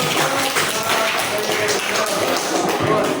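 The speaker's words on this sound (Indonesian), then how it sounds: "Berikan tepuk tangan." Applause from a classroom group, a dense steady patter of many hands clapping together for about three seconds, fairly loud and close, with no talk over it.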